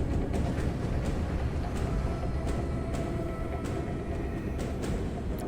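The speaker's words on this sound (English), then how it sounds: "The tram's engines whir to life, and we depart the MPO prison for the central HQ of the colony." Tram engines whir in the Subterrain video game as the tram departs a prison rail station, a steady rumbling drone with faint periodic clicks and clacks, moderately loud and unbroken throughout.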